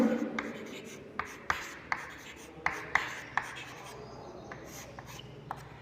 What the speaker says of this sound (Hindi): उनके नाम जो है अपन लिखते हैं